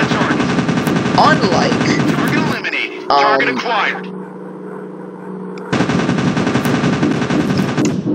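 Rapid, loud, continuous anti-aircraft gunfire and machine-gun bursts from the WWII dogfight video game Warplanes WWII Dogfight, cutting out briefly for a quieter engine drone with a voice, then resuming at full intensity.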